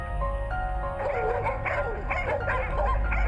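Husky dogs barking and yipping at a husky dog championship, a busy chorus of overlapping barks from several dogs at middle distance over a steady crowd and outdoor rumble.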